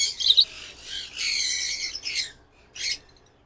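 Pet ringneck parakeets give several harsh, shrill squawks in short bursts close by, with quiet gaps between calls and no talking.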